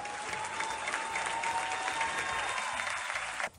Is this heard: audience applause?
yes